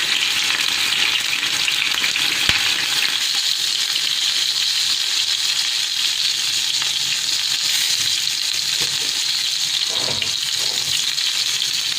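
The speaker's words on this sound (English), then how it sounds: "in a hot pan, we are going to fry it. Just flash fry it from all sides" A chicken roulade flash-fried in a hot pan, giving a loud, dense, continuous sizzle that holds steady throughout with a single brief clink partway through.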